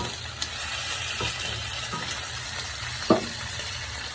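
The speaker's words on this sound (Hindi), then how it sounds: "ये प्याज हमारे भून रहे हैं, गोश्त डाल दिए हैं ताकि गोश्त को भुनाई हो जाए अच्छे तरीके से" Onions and meat frying together in a pan make a steady, close sizzle, with a few sharp spoon knocks and stirring clicks over the continuous crackle.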